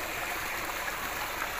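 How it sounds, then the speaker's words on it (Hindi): Water pours from a government tubewell into a farm field, a steady, dense rushing flow close by that stays constant throughout without any talk. "यहाँ से पानी होता हुआ इनकी खेत में जाएगा। ये देखिए ये जा रहा है पानी।"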